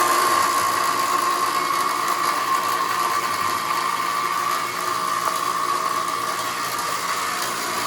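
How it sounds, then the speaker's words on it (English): A pump moves maple syrup up into 55-gallon barrels, giving a loud, steady mechanical drone with a constant whine that runs unbroken throughout, with no talk over it. "we just pump it up into these barrels here"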